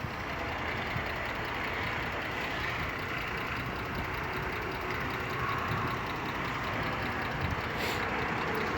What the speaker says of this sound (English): Got a terrible misfire